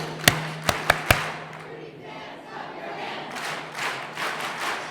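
A retirement event crowd claps along with a chant, a few sharp claps near the start followed by diffuse cheering and voices in a lively room.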